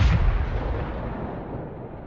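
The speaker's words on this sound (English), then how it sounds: "Ukrainian artillery makes a massive attack on the stopped Russian column" Heavy artillery strike on a stopped Russian tank column at a minefield: a deep, booming blast tail of low rumble that rolls on and slowly fades across the whole stretch, with no voices.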